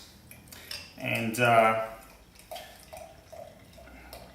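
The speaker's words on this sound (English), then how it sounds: "so let's have a look at this beer. Pour it into the glass" Abbaye du Lys beer is poured into a glass in one gurgling, splashing pour of about a second, with light clinks before and after. A voice speaks briefly nearby.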